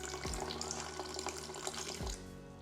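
Filtered water pours steadily into a container on a kitchen scale while sourdough is being mixed, a continuous close splashing stream with no talking.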